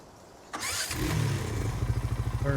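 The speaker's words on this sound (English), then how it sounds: "Get our Mahindra and just do a little bit of a drive." A Mahindra tractor engine cranks and fires up in Farming Simulator 19, a short starter whir giving way to a steady, loud mid-pitched idle with a pulsing chug. No one speaks.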